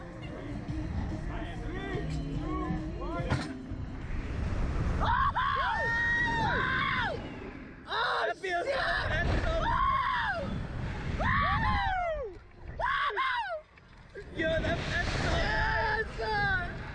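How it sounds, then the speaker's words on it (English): People screaming on an amusement drop ride: loud, repeated rising and falling shrieks in bursts, close to the microphone, over a constant rush of wind and background crowd noise. "you're about to see me screaming on that camera"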